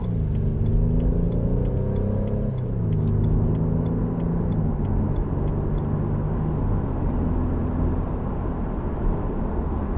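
A 2014 BMW Z4 sDrive 28i M Sport with a 2.0-litre engine pulling away from a standstill, heard from inside the cabin: a steady low engine rumble rising in pitch as it accelerates, then settling into an even drone.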